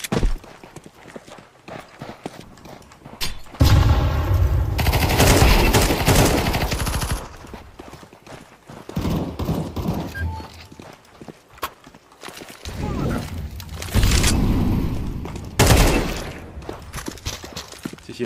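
Counter-Strike 2 gunfire: bursts of rifle shots and rattling automatic fire come in loud clusters between quieter stretches with footsteps and clatter, close and punchy.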